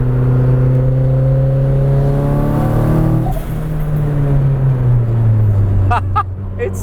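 An SR20-swapped Datsun 240Z engine revs loudly while driving, its steady drone rising and then dropping in pitch as it shifts, close and continuous, with a brief burst of chatter near the end.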